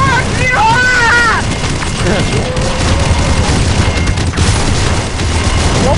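Gunfire and explosions in the video game Counter-Strike Online, a dense, loud barrage of booming shots and blasts running throughout while a voice shouts excitedly over it.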